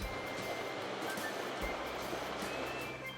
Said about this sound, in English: Listen to the sound of that river.